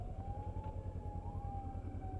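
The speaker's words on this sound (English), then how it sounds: "then I heard sirens" Emergency vehicle siren, a faint steady wail sounding somewhere in traffic, low and distant beneath engine rumble.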